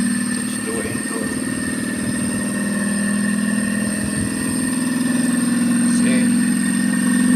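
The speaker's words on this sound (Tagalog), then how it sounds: "Outdoor fan motor, compressor as well. It's working." Panasonic 2.5hp inverter air conditioner outdoor unit running, its compressor and fan motor giving a steady close hum with a constant tonal drone, with a brief spoken word near the start.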